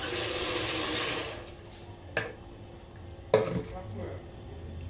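Tap water runs steadily for cleaning cabbage in a kitchen, then stops, followed by a couple of sharp splashes and knocks in a vessel.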